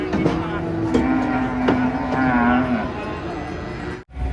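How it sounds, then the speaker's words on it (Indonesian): A giant cow gives a long, loud, close moo that starts shortly after the beginning and fades out past the midpoint, with background voices and farmyard noise around it. "Kedatangan sapi raksasa guys,"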